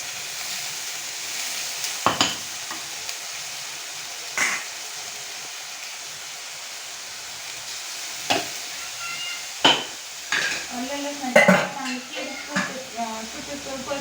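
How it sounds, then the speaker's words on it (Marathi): Ginger garlic paste with onion sizzles steadily in hot oil for pav bhaji, broken by several sharp scrapes and clinks of stirring in the pan. "आलं लसणाची पेस्ट चांगलं तेल सुटेपर्यंत परतून घ्यायची"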